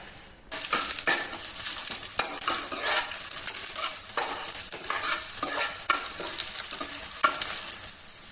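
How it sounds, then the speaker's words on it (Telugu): Red chillies fry in a little oil in a pan, a steady close sizzle running throughout with regular scrapes and clicks of stirring, and no talk. "ఇప్పుడు ఇదే ప్యాన్లో కొంచెం ఆయిల్ వేసుకుని మిరపకాయలు వేద్దాం"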